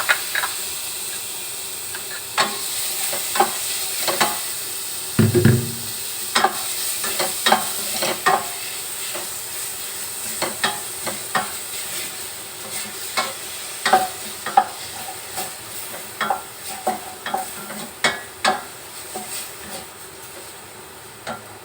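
Steady sizzling of minced chicken frying in a pan, with frequent scraping stirs and clicks of a utensil throughout, fairly close.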